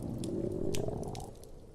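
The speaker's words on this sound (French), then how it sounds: "Son ventre ne cessait de gargouiller." A hungry stomach gurgles and rumbles continuously, a low bubbling churn with a few brief squelchy pops, close and moderately loud with no talking.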